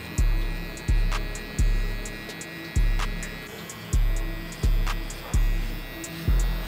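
An electric hair trimmer hums steadily at close range during a haircut, with rhythmic pulsing swells roughly every second as it passes over the head and no talking.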